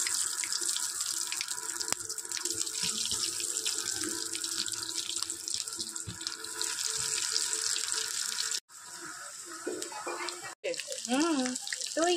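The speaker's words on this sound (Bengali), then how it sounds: "চলো ফ্রাই করে নি।" Breaded chicken meatballs fry in hot oil, a dense, steady sizzling hiss that runs through most of the stretch, briefly cut off twice near the end, with a voice coming in at the close.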